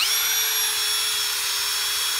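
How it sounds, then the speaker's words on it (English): A battery drill bores a hole into layered sedimentary rock, its battery running low, giving a steady, close, high-pitched whine that holds unbroken from start to finish with no talk. "So I'm gonna drill the hole"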